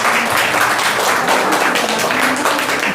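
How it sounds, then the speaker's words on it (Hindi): Children applauding together at a school science fair, a dense, loud burst of clapping that continues steadily for several seconds without a break. "तो सभी बच्चे अपने लिए ताली बजाएंगे।"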